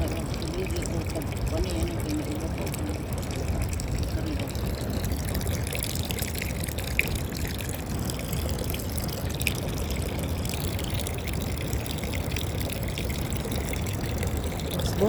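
Water running steadily from a tap at home, a continuous low splashing flow heard close by throughout, with a faint background hum.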